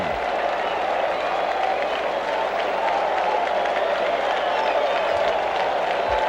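A large Fenway Park baseball crowd applauds and cheers a grand slam home run by Sal Bando, a loud, continuous roar of clapping that fills the whole stretch.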